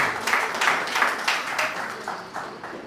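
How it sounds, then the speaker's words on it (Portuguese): Church congregation applauding during a Sunday communion service, a moderate, slightly distant patter of hand claps in uneven bursts with faint voices mixed in. "Há uma salva de palmas para a glória de Deus."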